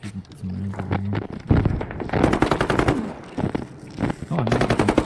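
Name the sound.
machine gun fire in a video game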